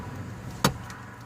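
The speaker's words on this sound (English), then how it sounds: "I think that clicky click noise was in the seat, because I moved the seat." A single sharp click from a car seat being adjusted, fairly quiet inside a parked car, with faint background hum before and after.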